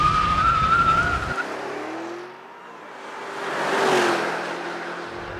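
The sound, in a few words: 2013 BMW Alpina B7 braking hard from 60 mph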